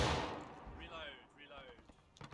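A single musket volley booms loudly at the start in the Civil War video game War of Rights, a sharp blast decaying into a rumbling tail with faint distant echoes.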